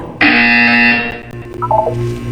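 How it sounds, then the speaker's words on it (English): A loud electronic buzzer in the video game Portal 2 sounds once as a sustained harsh tone, then cuts off, followed by quieter electronic chirps and a low hum. "When you hear the buzzer, look down at the floor."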